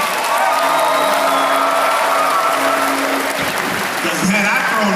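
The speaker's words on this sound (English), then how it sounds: "Clap it up for Dr. Darius." An audience at a Father's Day award ceremony and athlete panel gives a loud, sustained round of applause with some cheering, while a voice speaks over the clapping.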